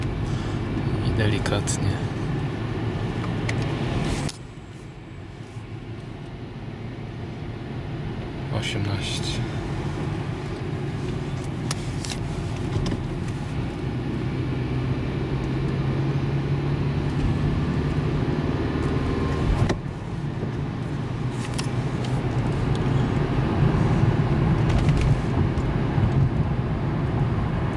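A Kia Carens 1.6 drives in fourth gear on a short winter trip at about zero degrees. Its low, steady engine and road hum fills the cabin while someone talks over it.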